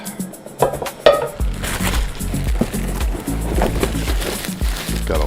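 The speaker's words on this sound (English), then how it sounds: "Another cooking pot." Cooking pots being unpacked from a box, with clanking metal knocks, scraping and rustling packaging in close, irregular bursts.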